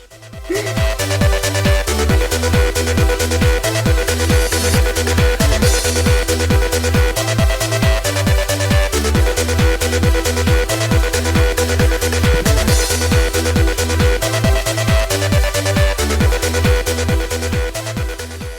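Driving 1999 trance music: a pounding four-on-the-floor kick, pulsing bass and bright synth layers, loud and continuous throughout.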